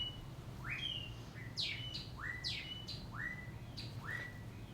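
Outdoor bird calls repeat about five times, each a rising upswept chirp followed by higher sharp notes, fairly clear over a steady low background hum, with no talking.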